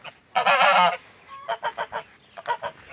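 Geese honk loudly and close by, first with one long harsh call and then a string of shorter rhythmic honks and clucks, with no one talking.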